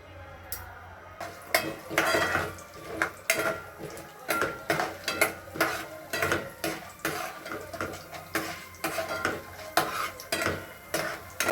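Mustard seeds, peanuts and chana dal stirred in hot oil in a pan: a quick, repeated metal scraping and clinking in a steady rhythm over a faint sizzle, close up, with no talking.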